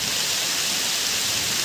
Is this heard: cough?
no